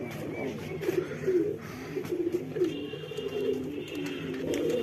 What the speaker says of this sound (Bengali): আমরা সব আকরাম মামার কবুতর লফটে হিউজ কবুতর কালেকশন